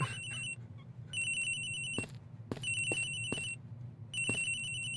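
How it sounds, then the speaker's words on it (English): A phone ringtone chimes in the Ace Attorney Investigations: Miles Edgeworth video game, sounding as repeated bright electronic ring bursts separated by short pauses over a low steady background hum. "The ringing is coming from somewhere around here."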